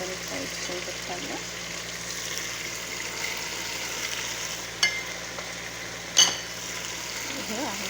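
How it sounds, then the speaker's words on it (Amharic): Onions frying in a pot for an Indian stew give a continuous close sizzle, with a couple of brief utensil knocks against the pan partway through. "ይሄ አሁን ሽንኩርቱን ጨምሬ ሽንኩርቱ ቡኒ እስከሚሆን እና የሚያምር ከለር እስከሚኖረው ድረስ በደንብ እሽት ታደርጉታላችሁ ማለት ነው።"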